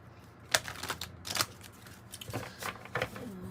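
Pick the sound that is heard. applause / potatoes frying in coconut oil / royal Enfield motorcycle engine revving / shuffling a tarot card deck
shuffling a tarot card deck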